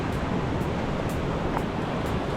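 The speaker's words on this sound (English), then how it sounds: "Yellowstone River." The swift Yellowstone River in its canyon rushes past with a steady, full hiss of churning water, continuous and fairly close with no voices.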